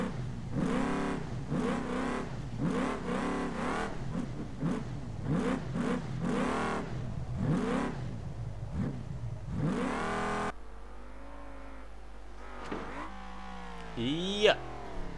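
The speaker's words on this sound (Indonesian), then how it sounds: "Mobil Jeep turun gunung." Off-road Jeep engine revving and whirring as it drives down a rough mountain track, the motor rising and falling in repeated surges, close and fairly loud, then quieter near the end.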